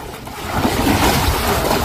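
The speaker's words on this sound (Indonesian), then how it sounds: "Airnya kenceng banget guys." Fast-flowing floodwater rushing like a river through a street in the city of Mecca, a steady loud broadband roar of churning water with wind buffeting the microphone, swelling slightly after the first half second and holding constant.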